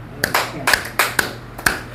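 Hands clap five times at an uneven pace, sharp, close and loud, with short quiet gaps between the claps.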